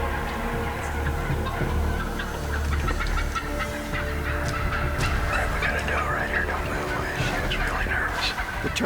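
Wild turkeys gobble repeatedly at a distance on an open morning, their rattling calls overlapping from several birds above a low rumble, with faint murmured voices now and then.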